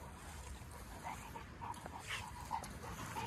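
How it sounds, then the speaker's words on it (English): Big five-month-old dog running, with faint, quick panting breaths and light movement noise heard from a distance. "Look at him running with that big dog."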